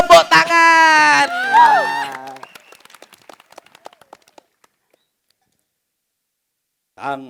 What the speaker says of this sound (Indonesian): Sekali lagi kita kasih tepuk tangan.